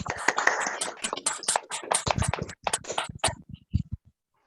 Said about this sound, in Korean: 두 분을 시험 잘 치르시도록 격려 박수 드리겠습니다